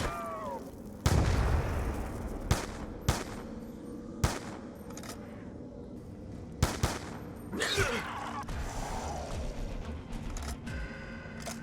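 Shots from an M14 rifle fired at zombies on the Town map in Call of Duty Zombies, sharp loud cracks spaced irregularly, several in quick succession, with mechanical clicks and game ambience between them.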